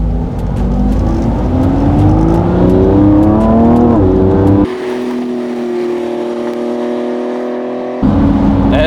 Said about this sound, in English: And that's how Hypercar sounds like.